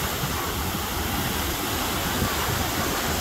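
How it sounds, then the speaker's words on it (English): Big ocean waves crash and roar continuously at Pensacola Beach, a loud, steady wash of surf filling the whole stretch with no pauses. "Those are some big monster waves."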